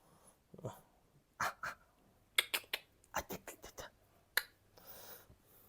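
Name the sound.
dog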